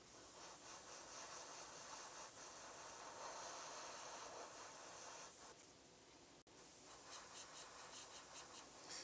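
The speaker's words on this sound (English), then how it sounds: "Make sure we're spraying without a spatter." Close, steady hiss of an aerosol spray can misting paint onto a Magneto miniature from Marvel Crisis Protocol, continuous with one brief break near the end.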